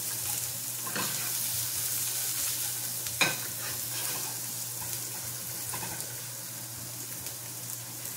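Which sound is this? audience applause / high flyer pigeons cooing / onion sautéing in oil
onion sautéing in oil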